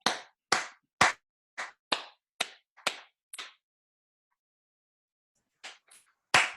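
A group clapping hands in a call-and-response rhythm at a workshop with a loud group: a run of crisp single claps at a steady beat, a pause, then a few more claps.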